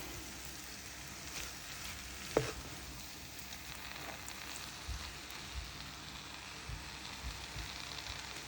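Abacha African salad is stir-fried and turned in a pan, giving soft continuous sizzling with faint scraping stirs and one sharp clink, quiet and close, with no voices.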